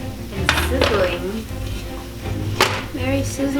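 Lentil rice crackers fresh out of the oven sizzle on a hot tray, with a few sharp metallic clinks and clatters of the pan over the soft crackle.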